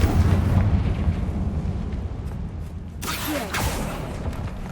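Fiery Confringo spell blast from Hogwarts Legacy gameplay, a deep rumbling burst that rolls on and swells again into a sharper crackling flare midway, loud and close with no talking.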